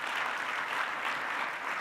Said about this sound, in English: How about you give yourselves a round of applause for being purely awesome?